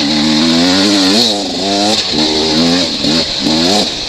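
A Beta 300RR two-stroke dirt bike engine revs up and down close by, loud and raspy, rising and falling in several quick blips with a buzzing high edge, and no talk over it.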